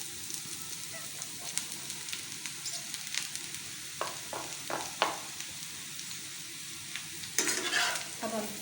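Okra and onion frying in a pan over a medium flame, with a steady broadband sizzle and scattered sharp scrapes of a spatula stirring, a louder burst of sizzling near the end; no talking.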